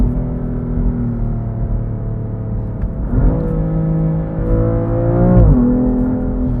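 A BMW F80 M3 CS engine holds a steady drone, then revs up in two rising sweeps toward redline, loud and close from inside the car.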